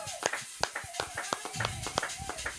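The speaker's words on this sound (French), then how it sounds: "Acclamez pour la gloire de Dieu." Steady rhythmic hand clapping from a church congregation, about three claps per second, sharp and fairly close, with voices faintly underneath.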